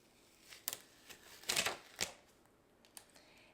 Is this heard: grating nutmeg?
no